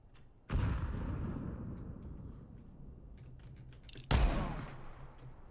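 Two heavy revolver shots in the video game Counter-Strike 2, a few seconds apart, each a sharp loud boom with a long rumbling tail.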